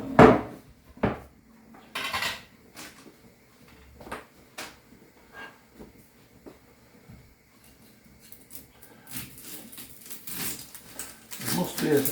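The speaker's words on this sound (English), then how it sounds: "I think we need some sliced onion next." Knife slicing an onion on a board in a home kitchen, heard as scattered knocks and chops with clattering of kitchen utensils, some bursts louder and close, mixed with faint movement noise; no speech.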